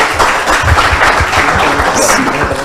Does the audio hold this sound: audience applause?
yes